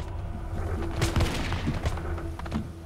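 A burst of overlapping musket gunshots in a ragged volley, booming and crackling close by, followed by a few scattered thuds and pops.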